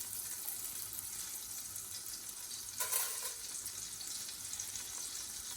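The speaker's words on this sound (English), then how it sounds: "Now I'm going to add the garlic flakes that we crushed." Crushed garlic flakes sizzle in hot melted butter over lowered heat, a steady close frying hiss throughout with a brief louder crackle midway, no voice.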